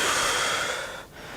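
A single slow, airy breath taken during a meditation breathing exercise, close and fairly loud, easing off toward the end with no talking.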